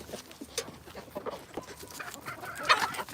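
Several chickens cluck softly nearby in short, scattered bursts, with a sharper squawk toward the end and quiet outdoor background.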